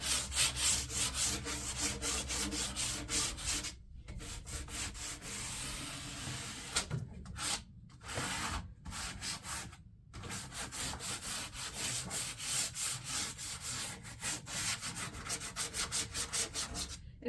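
A wooden table top and edges being sanded to strip paint, a dense rhythmic rubbing scrape running almost continuously, near and fairly loud, with a few short pauses between passes.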